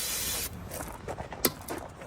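Brake cleaner hisses from a spray can onto the front brake area of a 2022 Toyota RAV4 in one half-second burst, followed by quieter clicks and handling noises close by.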